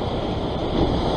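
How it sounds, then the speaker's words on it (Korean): Sea waves break on the shore during a fishing session, a steady full-band wash of surf with wind buffeting the microphone throughout, loud and close with no talk. "파도가 또 세졌네."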